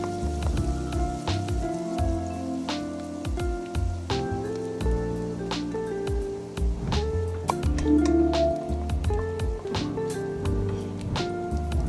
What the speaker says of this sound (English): Fry until it becomes soft.